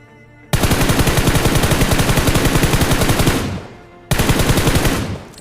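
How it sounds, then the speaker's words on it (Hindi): Automatic gunfire in a battle royale video game, rapid and loud, with one long sustained burst of evenly spaced shots that tails off, then a second burst after a brief gap. "मैं उनको लेट के तो ही फायरिंग की कोशिश करता हूँ"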